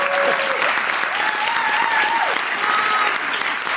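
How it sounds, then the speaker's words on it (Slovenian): An audience claps continuously for a few seconds, a dense, even applause in a room, with a voice faintly rising over it. "Anže ima tremo, dajte mu zaploskati."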